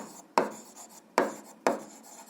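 A pen or pencil scratches out an eighth-grade algebra solution on paper, three distinct stroke bursts sounding close and fairly quiet with short pauses between them, no talking.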